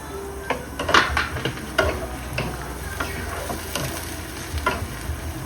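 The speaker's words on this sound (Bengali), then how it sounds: "এখন দিয়ে দিব বেশ কিছু আস্ত রসুনের কোয়া।" Whole garlic cloves fry in a pan with a steady sizzle. Repeated sharp clicks and scrapes from a utensil stirring against the pan cut through, up close and without speech.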